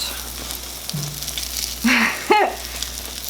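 French toast sizzles steadily in a hot frying pan as it is flipped over, with a brief clatter and a short voice rising near the end.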